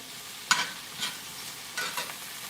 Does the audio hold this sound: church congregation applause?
no